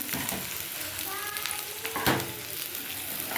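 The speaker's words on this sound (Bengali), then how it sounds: "পেঁয়াজটা একটু ভেজে নেবো" Sliced onion fries in mustard oil in a pan for an egg curry, giving a steady close sizzle with a few light crackles and a stir, and no voices.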